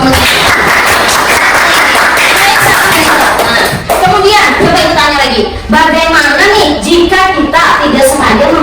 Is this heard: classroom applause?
yes